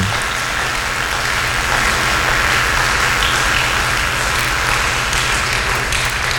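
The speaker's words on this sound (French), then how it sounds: "Est-ce qu'on peut encore acclamer pour la gloire de Dieu?" A church congregation applauding to glorify God during a revival service, dense steady clapping from a large crowd that stays loud and even throughout, with no speech over it.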